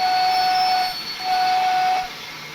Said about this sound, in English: Let's have a bit of whistle action.